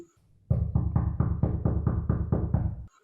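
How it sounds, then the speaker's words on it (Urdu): Ten evenly spaced, solid knocks strike a door in quick succession. They are loud and close and come alone, with no talk over them. "اس بار اختر نے ذرا اونچی سی دستک دی"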